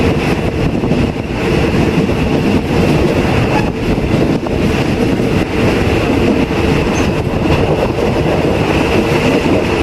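A Thai passenger train rumbles steadily along the rails from Udon Thani to Bangkok, loud and close, with a continuous rattling roar and no voices.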